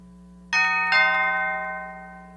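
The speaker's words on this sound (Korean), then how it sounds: "그때 초인종 소리가 났다." A doorbell rings alone in a quiet room, two quick overlapping chimes with a bright metallic tone that rings on and slowly fades under a low steady hum.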